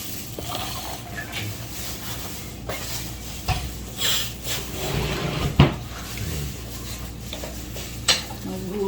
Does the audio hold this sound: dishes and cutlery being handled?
yes